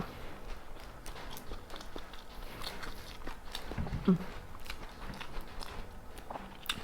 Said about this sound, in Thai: ชูเรียนกรอบ